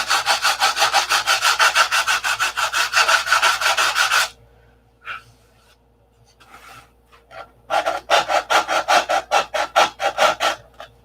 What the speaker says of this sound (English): Hours of sanding.